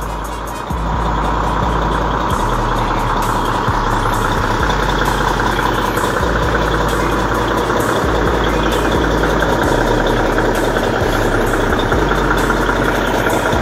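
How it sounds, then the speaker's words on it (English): An old custom truck on the Falmouth Bypass in Jamaica runs with a loud, continuous close-up engine rumble that holds steady throughout, with no talk over it. "That is an old truck."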